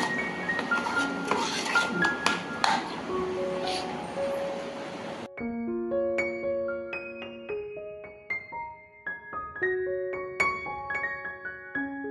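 Spoon scraping and clinking against a pan while puran mixture is stirred on a gas stove, soft intermittent scrapes over a steady background, then sparse clinks alongside a bright electronic melody.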